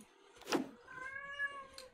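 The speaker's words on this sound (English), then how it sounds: "Apparently my cat thinks I'm talking to her." A pet cat meows once, a clear drawn-out call with a rising then falling pitch, close by and alone over a quiet room, with a faint bump at the start and a soft rustle at the end.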